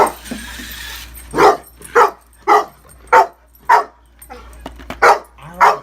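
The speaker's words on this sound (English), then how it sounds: "my dog goes nuts." A dog barks at a remote-control DeLorean car, eight or nine loud, close barks in a steady rhythm with short gaps, after a brief stretch of faint background noise.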